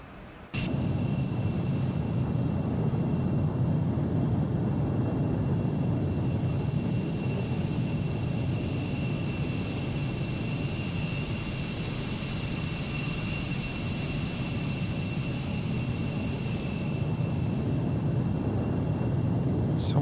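An Embraer E195 jet climbs after takeoff in the X-Plane 12 flight simulator, its engines giving a steady, loud, broadband roar with a faint high whine that holds for twenty seconds without talk.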